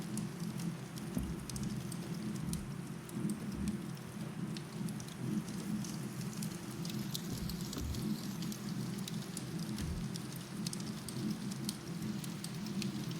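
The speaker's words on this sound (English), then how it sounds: "when it's hailing outside like it is right now" Hail rattles steadily on surfaces outside a shelter, with a constant dense patter and a low rumbling undertone through the whole stretch. No voices are heard.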